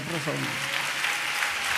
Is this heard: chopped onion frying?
no